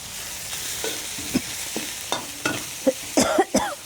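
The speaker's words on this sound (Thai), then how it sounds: "ผัดพริกเราค่ะ ผัดพริกแกงเรา ผัดให้หอมๆ" Curry paste and chili stir-fried in a spoonful of oil for a catfish curry, giving a soft sizzle under sporadic spatula scrapes and taps that quicken toward the end, with no talking.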